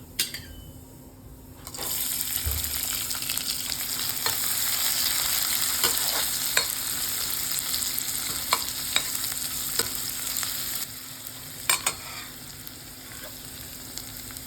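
Onion sizzles and frys steadily in a pan alongside spinach and lentils, a continuous crackling hiss with occasional stirring clinks and scrapes, close and moderately loud with no talking.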